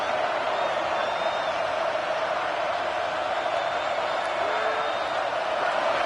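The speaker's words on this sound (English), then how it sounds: "Decibels rising as the crowd gets behind this defense on third down." A stadium crowd in a college football video game swells into a steady, loud roar behind the defense on third down, filling the whole stretch without pause.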